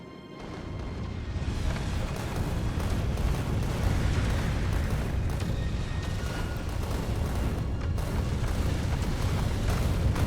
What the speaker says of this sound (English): more rockets, taking out more targets